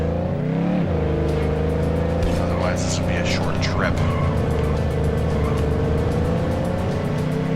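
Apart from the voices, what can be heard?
car driving in video game The Godfather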